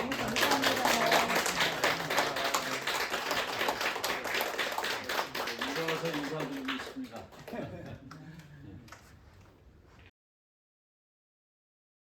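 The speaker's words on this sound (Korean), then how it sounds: "우리가 박수로 맞이합시다" An audience claps to welcome a senior politician speaking at a Saturday gathering for visually impaired people, with loud scattered clapping and some chatter that thins out and fades before stopping abruptly.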